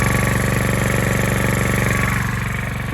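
A Ryobi gasoline generator engine runs close up with a steady, pulsing mechanical drone and a regular firing rhythm, loud and unbroken throughout with no voices.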